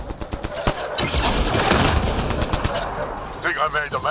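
Video game gunfire from Mass Effect Andromeda in a combat scene, with dense rapid bursts and bangs layered over a rumbling battle mix, while voices speak over parts of the action.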